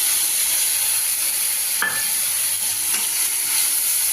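Spice paste of cumin, coriander, chilli and turmeric powders goes into frying onions and is stirred, with a constant loud sizzle and two short scraping strokes in the middle.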